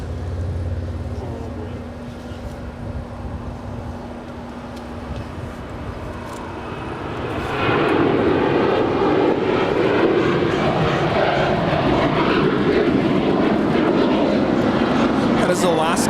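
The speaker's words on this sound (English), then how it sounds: "That is Alaska Airlines Flight 78 departing to Fort Lauderdale. It's a Boeing 737-900ER." Alaska Airlines Boeing 737-900ER departing Los Angeles International Airport for Fort Lauderdale: a steady distant jet rumble swells abruptly into a loud, sustained roar about halfway through and holds to the end.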